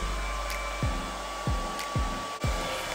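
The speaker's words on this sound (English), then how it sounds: "Blow drying, I like to start from the bottom also, the same way I would comb. I use the comb attachment usually" A hair dryer with a comb attachment blow-drying type 4 hair hums steadily and close up, with a few rhythmic soft thumps as the comb passes through.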